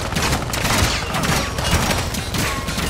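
Continuous automatic gunfire from Warzone 2.0 fills the moment, a loud, dense rattle of overlapping shots close by with no break.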